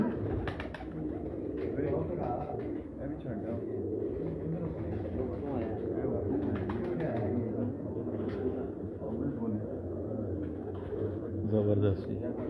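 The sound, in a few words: Teddy breed pigeons cooing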